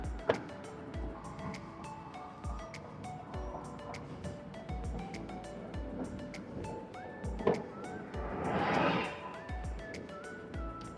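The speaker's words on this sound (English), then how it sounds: "Just driving through town on our way home." A car drives through town, with a low muffled road rumble and interior rattles, repeated soft thumps, and a brief whooshing swell near the end.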